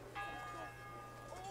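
A church bell rings in the medieval game Kingdom Come: Deliverance, a single clear toll with a long, faint, ringing decay over a low steady hum, and a second soft strike near the end.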